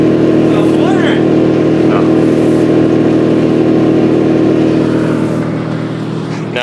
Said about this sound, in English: Now at the bottom of the silo we have the blower running, just the main fan